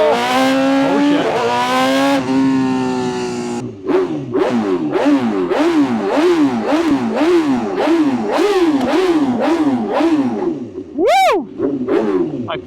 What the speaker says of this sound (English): that's the full Akrapovic titanium exhaust